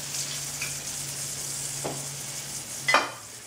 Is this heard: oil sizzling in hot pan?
yes